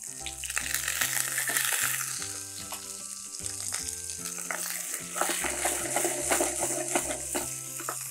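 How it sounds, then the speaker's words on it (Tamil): Shallots and garlic sauté in a pan for ghee chicken chukka, a continuous soft sizzle heard beneath prominent background music with a bouncing bass line. "இந்த சின்ன வெங்காயம் இந்த பூண்டு ஓரளவுக்கு நல்லா வதக்கியிருக்கேன்"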